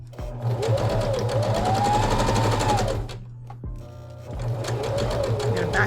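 A sewing machine stitches a homemade fabric face mask in close, fast, rhythmic runs, pausing briefly before starting again, with a voice speaking over the stitching.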